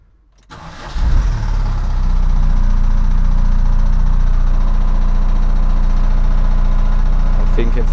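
A VW T3 van's 1.9 TDI diesel engine cranks briefly, catches and settles into a steady, loud close-up idle that runs on to the end.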